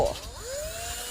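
A cordless electric screwdriver drill runs briefly, its motor whine rising in pitch over about a second, close and fairly loud with no talking.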